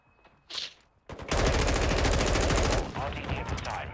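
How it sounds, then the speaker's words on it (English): Rapid automatic gunfire from weapons in Call of Duty Modern Warfare 2, a brief burst followed by a long loud sustained volley and then lighter continued shots, up close and dominating. "these weapon sounds are nice"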